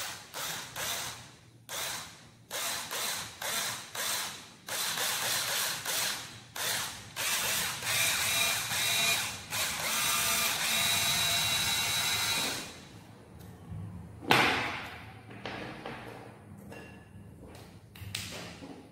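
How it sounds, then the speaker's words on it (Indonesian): A small bit drills into part of a homemade crossbow in short repeated bursts, a close whirring buzz that starts and stops in a regular rhythm, with one longer run and a sharp knock near the end. "Nah, kita pakai mata bor yang kecil ya. Kita bor dari sini."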